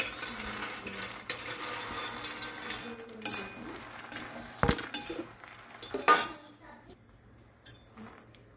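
A spoon clinks and scrapes against a pan while roasted makhana is tossed with turmeric and coriander-cumin powder for a chivda snack, giving scattered metallic taps and rustling stirs with quiet pauses between them.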